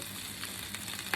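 Fried rice sizzles steadily in a pan over gentle heat, a close, continuous crackle and hiss with no talking.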